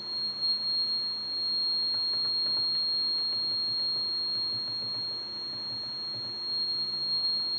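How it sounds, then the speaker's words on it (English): A constant high-pitched elevator overload warning buzzer sounds without pause over a quiet background hum. "An audio and visual alarm will also be activated."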